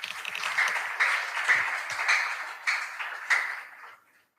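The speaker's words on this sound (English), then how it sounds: "Shall we give them a round of applause?" Audience members at a school quiz competition clap for the contestants, a moderate round of applause that swells in a few waves and fades out at the end.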